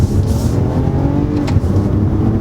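Engine of a 2020 Toyota Camry TRD with an 8-speed automatic revving as the car accelerates, a loud, dense, steady roar lasting a couple of seconds.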